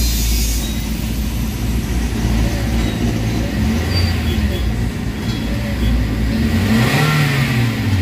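A Toyota Avanza engine with low power and delayed throttle revs up toward 3,000 RPM, a loud continuous drone that rises in pitch near the end, heard up close amid background noise.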